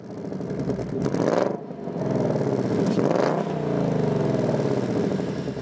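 A 2024 Ford Mustang GT convertible with active valve performance exhaust rumbles deep and loud, swelling through revs in two surges with no talking over it.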